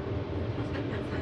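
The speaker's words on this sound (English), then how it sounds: "on a first-class train" Steady low rumble of a first-class train rolling along the rails in Slovakia, continuous and close, as if heard from inside a carriage.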